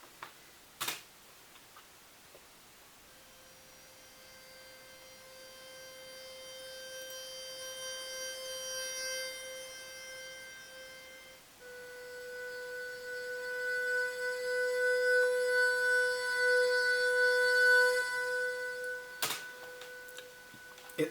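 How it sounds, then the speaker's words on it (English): A sampled harmonica with added reverb holds long, sustained notes that swell gradually in loudness, shifting pitch about halfway through, with a couple of faint clicks at the start and near the end. "So in the harmonica sounds like this."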